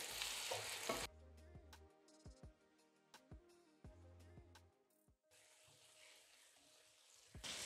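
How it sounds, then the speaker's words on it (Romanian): Honey-coated chicken turned over in a hot frying pan, bursts of sizzling broken by a few sharp scraping knocks and clinks of the utensil, moderately quiet and close, with no talk. "Îl mai las în tigaie încă un minut, întorcându-l uh, pentru a-l îmbrăca în miere."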